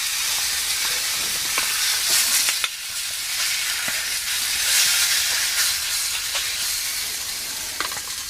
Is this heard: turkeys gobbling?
no